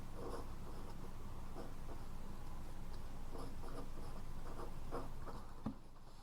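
Marker or chalk writing on a board during a mathematics lecture on Laplace transforms: a soft, steady run of short scratchy strokes at close range, with no talking over it.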